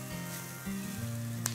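Soft sizzling of flour and spices being stirred as they fry in a pan for shrimp curry, a short close burst with faint scraping and no talk.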